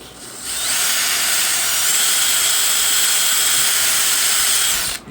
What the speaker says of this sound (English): Let's go ahead and grab the drill actually real fast.